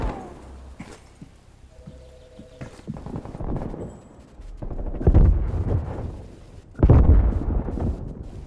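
An artillery barrage pounds the map in Call of Duty Black Ops Cold War, with scattered thuds and rumbles building to two heavy, close explosions near the end.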